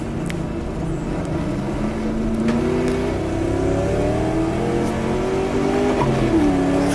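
A 1966 Ford versus Ferrari-era race car engine in GTR2 at Daytona drops a gear and pulls hard, its loud, close tone climbing steadily with a brief shift dip near the end, with no talk over it.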